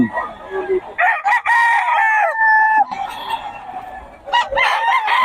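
Fighting roosters crowing loudly and close at a Bocaue market, several overlapping cock-a-doodle-doo calls with clucks between them.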